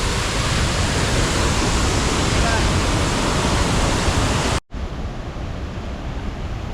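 A steady, loud roar of falling water fills the scene, broken by a brief dropout near the end before the rushing sound resumes.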